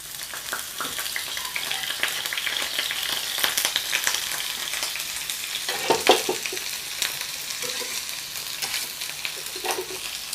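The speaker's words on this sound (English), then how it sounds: "into my hot oil, I'm adding my garlic, onions," Garlic, onions and prawns hit hot oil in a pan, giving a loud continuous sizzle with crackling bursts and occasional scraping stirs throughout.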